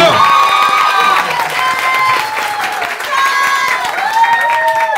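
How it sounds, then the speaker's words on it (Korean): Audience at a comedy show in Hongdae, Seoul, applauds loudly and continuously while a performer's voice carries over the clapping. "아 박수"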